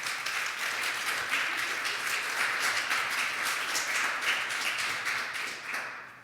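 Sustained audience applause fills the room at a talk on literacy, dense steady clapping from many hands that holds evenly before tapering off near the end.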